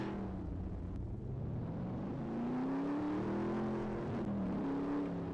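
A vehicle in Farming Simulator 19 drives steadily with a continuous engine drone whose pitch rises and falls as it accelerates and eases off, heard alone and fairly loud throughout.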